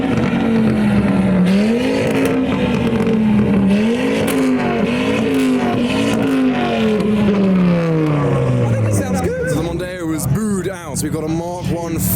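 A five-cylinder Ford Mondeo in police livery revs loudly nearby at a boy racer street car gathering on England's largest island, its engine note rising and falling in repeated pulls before dropping away, with crowd voices and chatter underneath.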